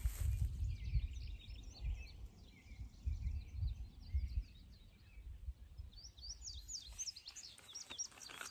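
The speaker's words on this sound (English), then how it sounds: "Can you hear the birds?" Birds singing outdoors in a quiet scene, with several chirping calls and trills, some near and some farther off, over a low background rumble.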